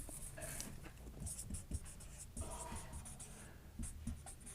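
Marker or chalk writing on a classroom board during a Hindi chemistry lesson on alcohols, phenols and ethers, heard as repeated short scratchy strokes in bursts, fairly close, with no talk over it.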